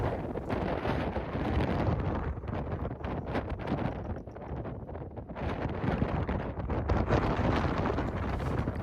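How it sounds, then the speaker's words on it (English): Strong wind at a high Death Valley viewpoint overlooking Badwater Basin, roaring and buffeting the microphone as a loud, continuous rumble with brief dips in force, no voices. "The wind is ferocious up here"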